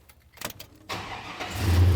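A fuel-injected 1965 Chevy truck engine cranks briefly, then catches and settles into a steady, loud idle with a deep low rumble.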